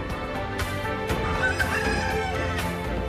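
A crowded poultry farm full of chickens, filmed for a Korean TV food segment on chicken dishes. Steady, dense clucking and fowl calls run throughout, with sharper squawks standing out now and then.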